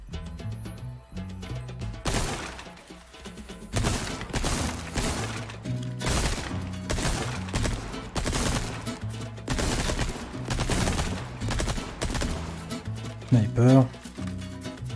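Rapid bursts of TMP submachine gun fire in the Resident Evil 4 Remake, loud repeated volleys over game music and ambience with a voice talking at times.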